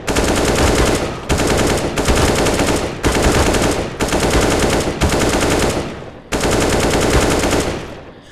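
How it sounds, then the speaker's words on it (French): Automatic rifle spray fire in the shooter game CS:GO, fired from a crouch: six loud, continuous bursts of rapid gunfire, each about a second long and separated by brief pauses, with no voices. "Donc moi ce que je fais en général c'est que je m'accroupis, je spray."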